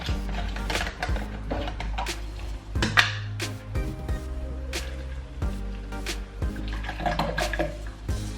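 Liquid pours through a strainer into a jug in a home kitchen, a steady splashing, trickling stream running throughout with clattering handling noises.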